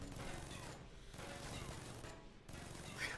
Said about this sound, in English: the turrets are still shooting while Michael Thornton casually strolls out of the room